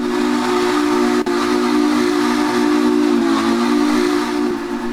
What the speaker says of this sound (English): But this whistle on this locomotive is